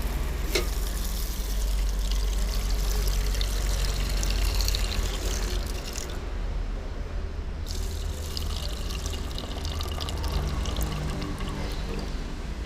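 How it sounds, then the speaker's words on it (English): Water pours steadily into a rice cooker pot for making rice, a continuous close splashing and trickling rush with a brief dip in the middle, no voices. "Add water."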